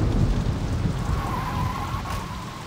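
Rain and rolling thunder from a storm in the Saints Row 2 video game, a steady loud wash of rain with low rumbling throughout, no voices.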